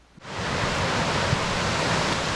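Mountain valley stream in a deep forest after a summer shower, its water rushing in a steady, loud, broadband roar that swells up after a brief quiet moment and then holds without voices.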